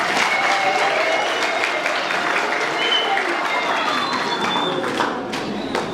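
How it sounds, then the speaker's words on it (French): An audience at a 70th anniversary celebration gives a loud, dense round of applause, many hands clapping together, with faint voices mixed in before it thins slightly at the end. "Donc, applaudissons-le encore."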